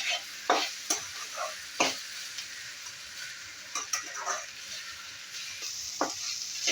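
Okra and onions fry in hot oil with a soft, steady sizzle, broken by a handful of sharp spatula scrapes and clacks against the pan as they are stirred; quiet and close, with no voices.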